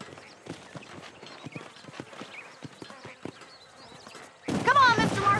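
Rhythmic clip-clop of horse hooves on dry ground in the Western video game Red Dead Redemption, a steady trotting beat heard fairly close, before a sudden louder burst of noisy sound takes over near the end.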